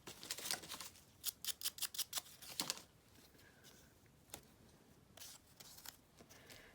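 Paper torn by hand for a vintage collage: a quick run of crisp, close rips in the first few seconds, then a few sparse, soft rustles and tears, all fairly quiet.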